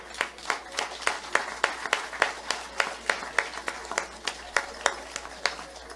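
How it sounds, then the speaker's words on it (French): Sparse, regular hand clapping from an audience at a political gathering, a steady run of distinct claps at moderate level with no talk over it. "S'il vous plaît, applaudissements, s'il vous plaît."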